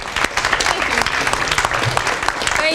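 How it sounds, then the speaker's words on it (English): Audience applause at a county foundation donation event for a teaching program, steady clapping filling the room with no pauses, fairly loud and close throughout. "another big round of applause for my chairman on the county council, Mr. Mel Franklin"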